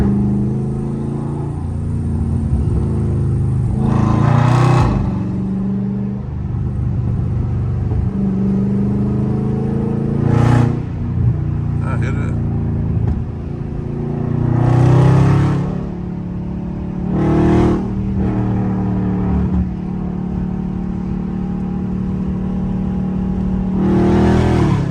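Dodge Scat Pack V8 exhaust rumbling in traffic, a deep steady idle-like drone broken by several loud bursts of revving that rise and fall, close to the car.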